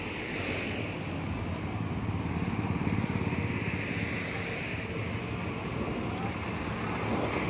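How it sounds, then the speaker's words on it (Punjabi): Tractors rolling along in a 26 January tractor parade in Delhi, held as part of a farmers' protest, giving a steady broadband engine and road rumble mixed with wind buffeting, continuous throughout with no clear speech. "ਇਹ ਤੁਸੀਂ ਦੇਖ ਸਕਦੇ ਹੋ ਟਰੈਕਟਰ ਆਉਂਦੇ ਜਿਹੜੇ ਮੋਰਚੇ ਦੇ ਵਿੱਚ ਆ ਰਹੇ ਨੇ।"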